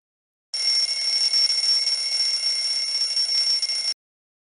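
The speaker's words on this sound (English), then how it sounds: "Why does the alarm sound different in the glass jar than it does outside the jar?" An alarm clock rings inside a closed glass jar, a steady high-pitched continuous electronic beeping tone that starts abruptly, holds for about three and a half seconds and cuts off, fairly muted.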